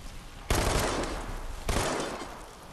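Machine pistol fire in the Dead Island 2 video game, two loud bursts of rapid shots about a second apart, each trailing off into a dense rattle with no talk over it.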